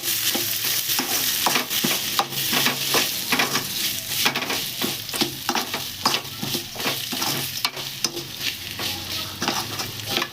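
Prawns fry in a pan for a prawn fry dish, giving a dense, close sizzle broken by frequent stirring scrapes and clinks of a utensil against the pan, with no talking.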